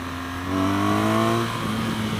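A 2016 BMW R1200 GS motorcycle engine revs up through its range while riding, a steady close drone that rises in pitch and then settles, with no voices.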